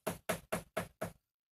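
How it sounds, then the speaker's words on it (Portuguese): Knocking on a door as a storytelling sound effect: five evenly spaced, firm knocks in a quick steady rhythm, close and dry, then silence. "O porco bateu na porta"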